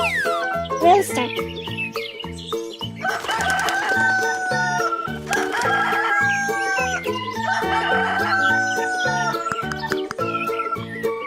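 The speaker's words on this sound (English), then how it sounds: "Rooster." Rooster crowing several times over a cheerful children's backing tune, each cock-a-doodle-doo rising clearly above the steady music.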